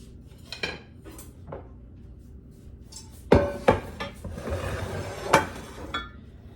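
A metal baking pan for a quick banana cake clanks as it is handled and set down, with several sharp scattered clatters and clinks against a quiet kitchen background.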